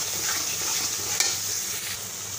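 A spoon scrapes and stirs spice paste for a native chicken curry as it fries in a hot pan with salt added. The loud, close sizzle is constant, with brisk stirring strokes and one sharp knock.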